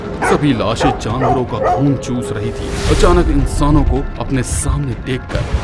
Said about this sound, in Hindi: कुत्ते भौंक रहे थे